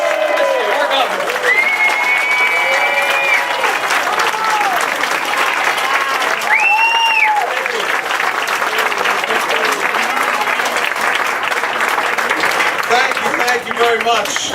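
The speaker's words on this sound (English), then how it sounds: "How about a stand ovation for Chris Christie, our governor?" A crowd of senior citizens gives a standing ovation for New Jersey Governor Chris Christie at an official announcement for a Belleville senior housing facility, with loud sustained clapping and cheering throughout and voices calling out over it.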